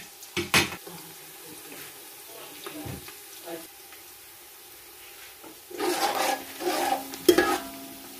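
Onions frying on a medium flame for chicken biryani, a low sizzle with scattered stirring clatters, quiet in the middle and busier near the end as utensils scrape the pot; a voice speaks briefly.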